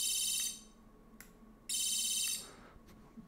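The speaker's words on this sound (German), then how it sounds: "der Alarm geht dann los und scheppert dann halt so lange Alarm, bis das wieder gedrückt wird." The built-in alarm of a Boruit V10 flashlight shrieks in two piercing, high-pitched bursts separated by a short pause, loud and close with a faint electronic hum between.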